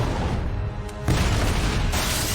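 Grenade blasts from a Superman & Lois television episode sound as loud, dense booming rumbles, with two heavy bursts in quick succession filling the short stretch, and no clear speech.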